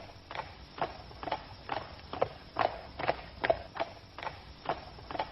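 Horses' hooves clip-clop at a slow walk as four riders leave a frontier town, a steady uneven rhythm of several animals' hoofbeats, moderately close, with no talk over them.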